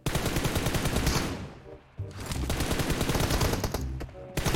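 Heavy bursts of automatic gunfire in a PUBG Mobile team deathmatch ring out loud and close, one long rattling volley, a brief pause, then another sustained burst.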